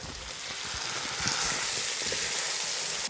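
Rabbit civet with onions and carrots sizzling steadily in a pan, a constant close hiss of frying with faint stirring clicks and no talking.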